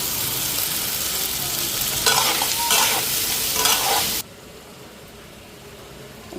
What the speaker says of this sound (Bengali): মশলাটা কাঁচাইয়া উঠায় আমি